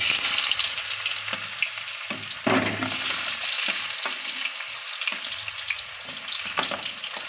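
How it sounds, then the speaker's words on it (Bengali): Chopped onions frying in hot oil, a loud, continuous close sizzle with intermittent scraping strokes of stirring throughout, no talking. "আমরা পেঁয়াজ থেকে একটু লাল লাল করে ভেজে নেবো"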